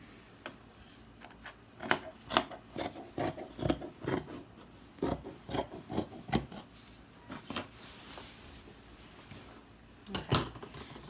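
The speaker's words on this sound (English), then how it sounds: "Go ahead and cut it out." Scissors cut through a layer of fabric for a pleated face mask, making a string of close, crisp snips with short gaps between cuts.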